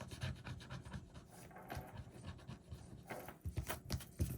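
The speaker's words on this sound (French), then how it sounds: "on va y gratter une pastille" A coin or fingernail scrapes the coating off a spot on a paper scratch card, making a close, dry rasping with irregular strokes that grow firmer toward the end; no voices.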